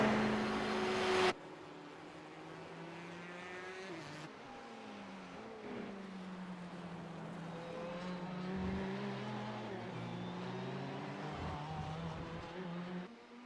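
Le Mans P1 prototype race cars in a racing sim, engines droning and shifting pitch as they push past slower GTE cars on the straight, a steady layered whine that rises and falls.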